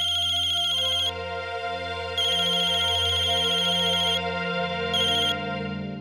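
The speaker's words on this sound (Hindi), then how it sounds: "किसका फोन है? उठा लीजिए ना।" A phone ringtone plays loudly, a tuneful electronic melody repeating in bursts with no one speaking.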